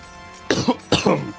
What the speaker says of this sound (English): Didn't mean for that cough to come out in the way that it did